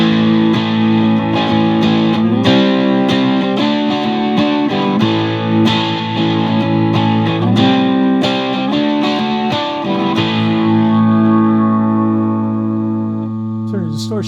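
An electric guitar plays sustained distorted chords and riffs through a JHS Pack Rat distortion pedal in turbo mode, thick and loud, with a final chord ringing out and decaying.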